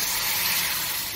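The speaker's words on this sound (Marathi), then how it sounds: "कढई छान गरम झाली आहे, त्यामध्ये आता दूध" Milk poured into a hot wok hisses and sizzles in one loud, continuous burst that lasts a second or so, with no voices.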